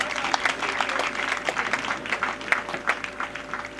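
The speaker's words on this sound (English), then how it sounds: "Please give him a very resounding applause." Festival crowd applauding the paramount ruler of the Ayakoro community, a dense, steady outdoor clapping with scattered louder claps and faint voices mixed in, sustained for several seconds.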